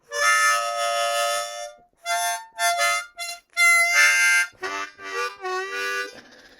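Exaggerated unclean blues harmonica playing from a beginner, with a string of short buzzy chords and smeared notes coming in uneven bursts and stops, close and fairly loud.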